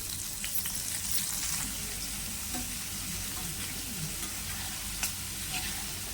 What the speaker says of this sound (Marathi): आता इथं जे गरम तेल होतं ना त्याच तेलामध्ये आपल्याला हे स्वीट कॉर्न असे घालून घ्यायचे